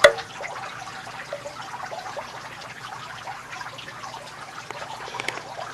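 Steady fizzing and trickling of small bubbles in water from an electrolysis cell of a hydrogen generator, a faint continuous rush with scattered tiny pops, close by and without voices.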